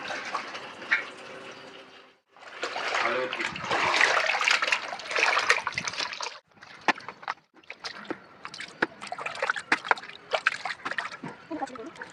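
Water splashes and trickles as fish are rinsed during cleaning, coming in uneven bursts of running and splashing with short pauses between them.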